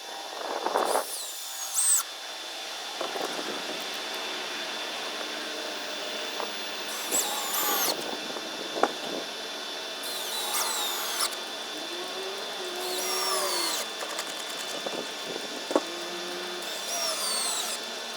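Power drill driving screws into a small storage shed floor in a series of short, close, whining bursts separated by pauses, about five runs in all.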